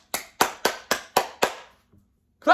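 Six sharp hand claps in a steady rhythm, close and fairly loud, followed by a short pause and a brief burst of a voice at the end.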